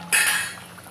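Luchi dropped into hot frying oil sets off a sudden loud sizzle and hiss that slowly fades over about a second.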